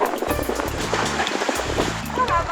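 Strong ocean waves churn at the Blue Hole off Romblon, a rough, rushing wash of water heard close beneath a voice and a tonal background bed.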